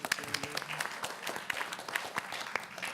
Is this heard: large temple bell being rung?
no